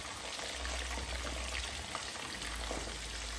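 Potato pieces deep-frying in hot oil for KFC-style fries, a dense, continuous close-up crackle and hiss of bubbling oil with no talk over it.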